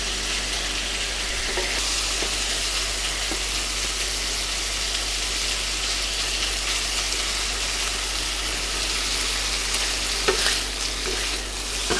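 Meat frying in a pan for Chinese fried noodles makes a constant, loud, close sizzle with occasional soft clicks from stirring, no voices over it.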